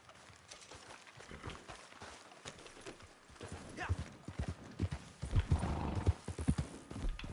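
Horse hooves clip-clop in the Red Dead Online video game, a quick rhythmic beat that grows louder and heavier as the horse speeds up, with a brief whinny midway.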